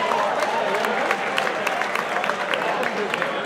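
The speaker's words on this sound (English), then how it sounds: "let's give a round of applause to these two fighters." An arena crowd applauds two women boxers after an amateur 141-pound Elite Open bout, a steady roar of clapping with crisp individual claps standing out, moderately loud throughout.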